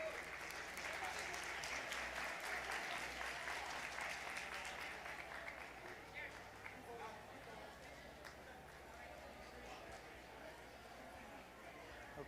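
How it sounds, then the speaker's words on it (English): A Thanksgiving feast audience applauds social dancers with sustained, dense clapping that starts strong and gradually thins, with faint crowd murmur underneath. "Please give them another round of applause."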